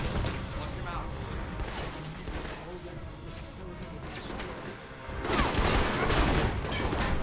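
Turret gunfire in Alpha Protocol rattles in dense, rapid bursts that swell louder toward the end, with someone talking over the clatter.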